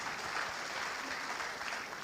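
A church congregation clapping together in a steady, dense wash of applause that fills the room evenly throughout, with no single claps standing out.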